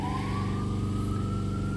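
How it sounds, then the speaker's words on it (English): An ambulance siren wails down the road, a single rising and sustained tone over a low, steady engine rumble. "Now you got an ambulance going down the road."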